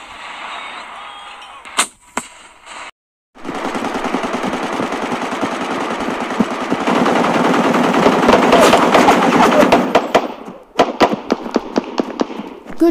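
Toy army men battle sound effects play loudly: scattered sharp gunshots, then a dense, sustained roar of mortar fire and rapid gunfire, ending in a string of separate bursts.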